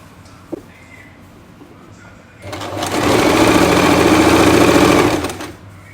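A sewing machine stitches the lining of a pair of pants being taken in at the waist, a loud, rapid whirring run of about three seconds after a quiet start with one small click, then stopping.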